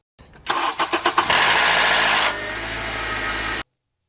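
A Honda Accord Crosstour's K-series engine cranks cold with several quick pulses, catches, and revs loudly with a brief metallic rattle before settling into a steady idle, then cuts off.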